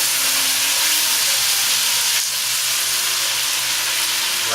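Curry goat frying in a cast iron Dutch oven, a loud, steady sizzle and hiss of hot oil close up that continues without a break, with a faint stir partway through.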